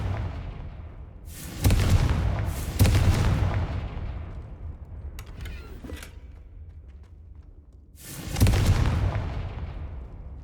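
Confringo fire spells in Hogwarts Legacy burst into three loud, close booming explosions, the first two in quick succession and a third after a pause, each with a rumbling decay.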